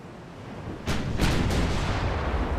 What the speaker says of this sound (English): Those are the battleship shells flying in now.